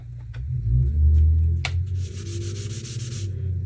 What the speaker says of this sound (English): you can take a baby wipe and dip it into your ink pad and then just rub it onto